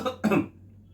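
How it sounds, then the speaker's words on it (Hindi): One short, close cough bursts out, preceded by a brief breathy sound, then quiet. "माफ कीजिएगा, थोड़ी सी खांसी आ गई।"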